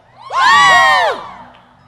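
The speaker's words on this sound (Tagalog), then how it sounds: "Ang lahat ay sumigaw!" A church congregation shouts together in a loud, sustained roar of voices that swells quickly, holds for about a second and then fades, with no single speaker standing out.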